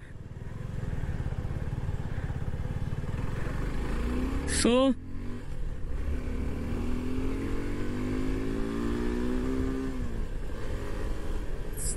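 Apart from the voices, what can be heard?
Suzuki V-Storm 250 SX motorcycle engine revving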